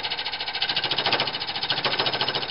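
Wood lathe turning a tobacco pipe blank held in a double-headed chuck with two clamps, giving a loud, steady machine whine with a fast rhythmic chattering pulse throughout.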